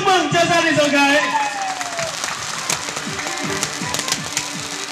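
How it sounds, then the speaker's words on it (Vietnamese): Wedding guests applaud the bride's family, a dense crowd of clapping under and after someone speaking over a microphone, with music fading out at the start. "chúng ta rồi lên một tràng vỗ tay cùng chúc mừng cho gia đình dâu gái"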